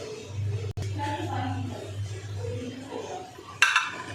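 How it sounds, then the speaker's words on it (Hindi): Serving spoon scraping and clinking against a pot while dishing out chicken tikka pulao rice, with a sharp metallic scrape near the end and someone talking over most of it. "ये देखिए मैं डिश आउट कर रही हूँ चावल।"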